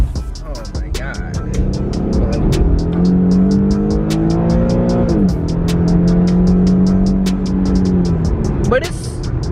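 A V6 engine in an Infiniti Q50 drones loudly and rises in pitch as it revs, then falls back and climbs again, with a steady rapid clicking alongside and talk over it.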